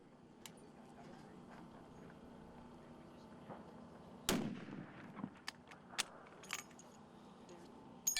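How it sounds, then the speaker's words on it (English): Long-range rifle shots fired at distant steel targets in a two-mile shooting competition, a sharp loud report followed by a few fainter cracks and impacts over steady outdoor background noise. "All 3 shots on the second target hit."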